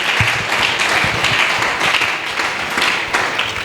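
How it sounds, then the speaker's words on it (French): A church congregation bursts into lively applause for the Lord, dense rapid clapping from many hands filling the space at close range, with faint voices mixed in beneath. "Acclamons pour le Seigneur."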